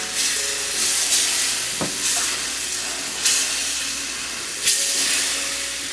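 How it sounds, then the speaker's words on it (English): White wine hitting a hot pan after pork chops were seared, a steady close hiss and sizzle with a few louder bursts as the pan is stirred, no voices. "It's white wine. This will deglaze the pan"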